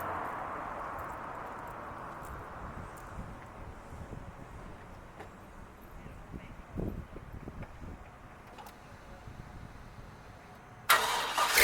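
A 2001 Vortec 8.1 V8 truck engine cranks and turns over near a steady low rumble, then catches with a louder burst at the end; no talking.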